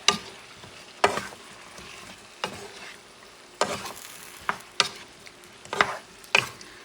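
A spoon stirs potatoes and carrots through a pot of pork stew, giving a low background simmer punctuated by about nine separate scraping knocks against the pot at irregular intervals.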